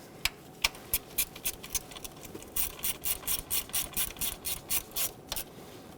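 A ratchet tightens the ignition coil bolts on a 2007-2014 Chevrolet Silverado 2500 HD with the 6.0L V8. Close, crisp clicks come in short spaced bursts, then a quicker, steady run of strokes.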